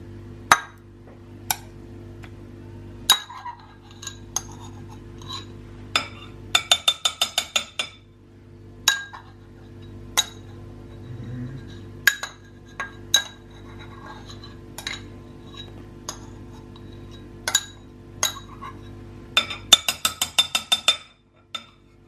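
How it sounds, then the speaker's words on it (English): A utensil knocks and clinks against a bowl while butter and chocolate are stirred together to melt, giving sharp irregular taps and a few quick rattling runs over a low steady hum, with no talking. "We're going to add the butter into the chocolate and stir it until it is melted."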